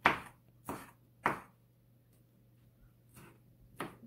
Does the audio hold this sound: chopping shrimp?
yes